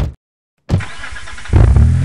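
A black Nissan GTR sports car, a stop-motion prop in a car chase, roars close and loud after a sharp cut of silence, its engine note holding steady before surging louder in a second rev.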